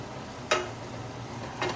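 Chicken cacciatore simmers in a pan with a soft, steady sizzle, broken by two brief utensil clinks against the pan.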